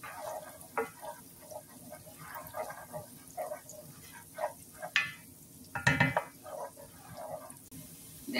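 Garlic frying in a little cooking oil, soft crackling sizzle with irregular pops and stirring scrapes, moderately quiet and close.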